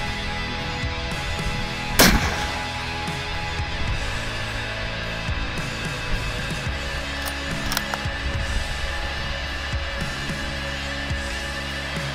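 A single loud rifle shot rings out during a mule deer hunt in Montana, a sharp crack followed by a fading echo over quiet outdoor ambience, with a fainter pop a few seconds later.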